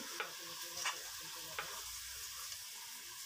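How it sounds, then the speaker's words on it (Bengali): Gourd and boal fish curry with ginger paste stirred in a pan, a faint steady sizzle broken by a few light scrapes of the spoon, no voices. "আদা বাটা দিয়ে নাড়াচাড়া করে দিচ্ছি"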